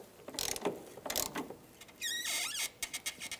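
A hand ratchet snugging a battery hold-down bolt on a 2012-2017 Hyundai Accent, giving quick clicking pawl bursts and a brief squeaky metallic rasp, close up and fairly quiet.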